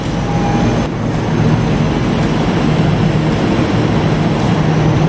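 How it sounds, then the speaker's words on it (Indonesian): An airport rail link train at Manggarai station, on the line to Soekarno-Hatta airport, produces a loud, steady mechanical rumble and hum that holds constant throughout, with no speech. "Nah, ini kereta kita."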